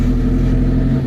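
A car idles loudly and close with a steady low mechanical hum during a driving lesson, alone without voices.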